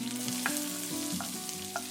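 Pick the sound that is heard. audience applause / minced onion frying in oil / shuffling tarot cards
minced onion frying in oil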